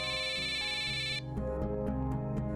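A phone ringtone plays a bright electronic melody that cuts off after about a second, leaving a music-like tonal background.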